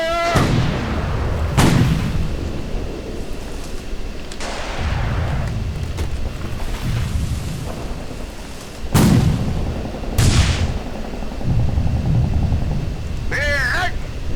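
Artillery firing in the WWII strategy game Sudden Strike 3 on a German campaign mission, heavy booms roughly every few seconds with rumbling tails, and brief voice callouts between shots.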